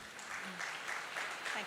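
Faint, brief applause from an audience at a college orientation program, a soft steady patter of clapping with a voice speaking faintly over it.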